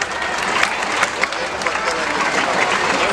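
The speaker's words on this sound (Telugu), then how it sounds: "అందరూ గట్టిగా చప్పట్లు కొట్టాల్సిందిగా కోరుచున్నాం." An audience at a birthday celebration in the Injapur government school claps loudly, a dense, continuous patter of hands at steady volume throughout.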